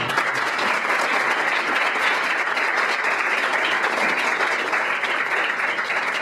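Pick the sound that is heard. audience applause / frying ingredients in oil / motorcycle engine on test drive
audience applause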